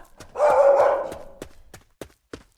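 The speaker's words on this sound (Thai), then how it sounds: "เฮ้ยเห่าแรงหนาวะ" Poji, a dog in the video game Urayama, lets out one loud, drawn-out bark close by. A few sharp, separate taps follow in the quiet afterward.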